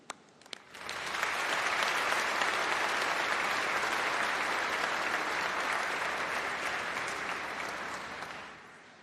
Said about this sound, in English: let's give a round of applause and a huge cheer to say thank you to all of your supporters